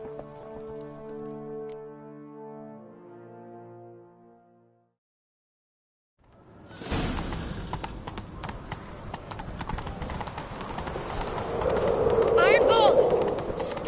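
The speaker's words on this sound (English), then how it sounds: "Grab a horse, we'll chase him down." Horse hooves gallop in The Witcher 3. A tonal passage and a short silence come first, then rapid, steady hoofbeats pound with a dense rumble that grows louder toward the end.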